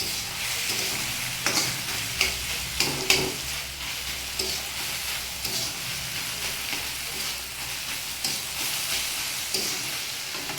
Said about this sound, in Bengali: দেখুন আমি সিমটাকে নাড়তে নাড়তে একদম মিশিয়ে ফেলেছি, আস্ত কোনো সিম নেই এখন